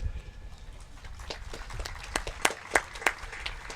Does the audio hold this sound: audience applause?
yes